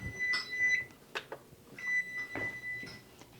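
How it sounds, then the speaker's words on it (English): Kitchen timer beeping in short repeated electronic tones, clear and close, during cake baking prep with no talking. "there's our timer"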